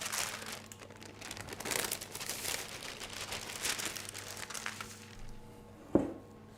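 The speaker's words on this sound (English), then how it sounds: "Get it into the piping bag and pipe it" Macaron batter is quickly scooped into a plastic piping bag, producing steady crinkling and rustling of the plastic throughout, with a sharper single knock near the end and no talking.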